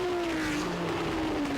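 A Lancia sports-prototype race car in a World Sports Prototype Championship race at the Nürburgring roars past, its engine note sliding steadily downward in pitch as it passes close and loud with no talk.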